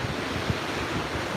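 Ocean surf and breaking waves fill the air with a steady broadband wash off a boat near the Umzumbi flats. Wind buffets the microphone throughout.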